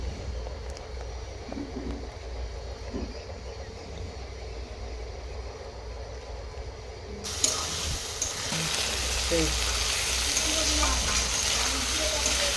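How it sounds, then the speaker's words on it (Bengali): Spice masala being sautéed with potatoes in a pan for a prawn curry, a soft frying hiss with scraping stirs that swells into a louder, fuller sizzle partway through, with no talk. "এবার আমি আলুর সাথে মশলাটা ভালো করে কষিয়ে নেব"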